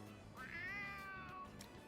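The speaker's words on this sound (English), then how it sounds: "Oh, a kitty cat!" A stray cat meows in Persona 3 Reload: one clear, drawn-out mew that rises and then slowly falls, sounding close and alone over a quiet background.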